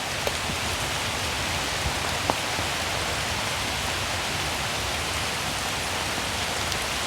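Steady rain falling along Highway 26, an even, continuous hiss of drops with a few faint isolated taps, with no voices.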